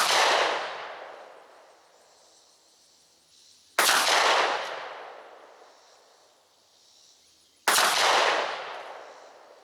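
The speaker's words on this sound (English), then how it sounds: "Let's head up here and take three shots with that combo and see what we're able to get." Three loud shotgun blasts from a Remington 1187 firing Sterling Tornado 2-3/4 inch 1 oz slugs through a rifled choke, evenly spaced about four seconds apart, each sharp crack trailing off in a long echoing decay outdoors.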